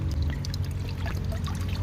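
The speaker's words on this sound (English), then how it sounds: "You can see the drip happening right here, and it's just a drip line." Water trickles and pours from a drip irrigation line fed by a solar-powered pump straight off a panel, a steady close liquid splashing over a low constant hum, with no talking.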